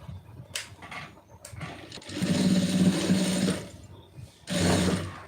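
A sewing machine stitching a folded quarter-inch neck piece of cloth, two bursts of steady whirring needle motor separated by short pauses and faint handling noises, close by with no talk.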